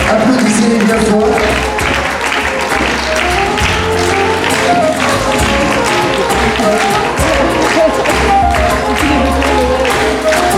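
Loud, dense applause from a crowd at a Breton costume parade in Quimper, sustained clapping at close range for the whole stretch, with a voice speaking faintly underneath.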